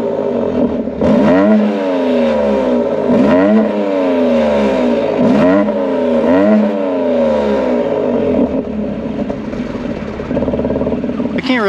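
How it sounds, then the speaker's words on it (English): A 2022 BMW X3 M with VRSF downpipes and its exhaust valves closed in daily mode, the engine revving loudly in repeated rising-and-falling sweeps close by, with a voice talking faintly over it. "So this is supposedly with the exhaust valve closed."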